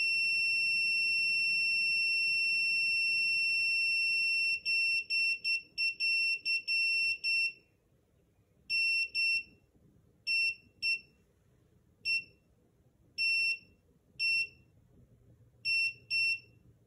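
A SARCTRAC Mk2 3D sensor gives a loud continuous electronic tone during factory calibration, then breaks into irregular clusters of short sharp beeps that grow sparser, alone with no talk.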